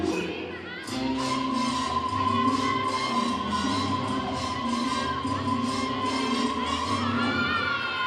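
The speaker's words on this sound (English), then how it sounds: "Crowd's loving it." A crowd cheers and shouts steadily through a gymnastics floor routine, the loud, sustained roar swelling after a brief quieter start, with scattered whoops rising above it.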